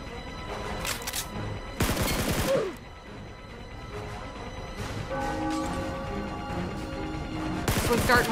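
Video game gunfire crackles in several rapid bursts separated by short pauses, with sharp, loud volleys near the start, around the middle and at the very end.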